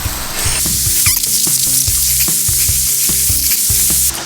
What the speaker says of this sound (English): Alright, so we got asparagus. Just gonna dump that in there.